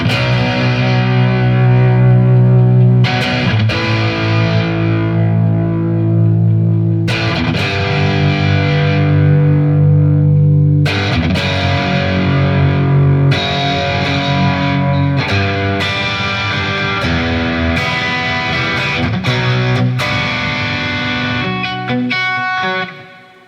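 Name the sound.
electric guitar with distortion playing power chords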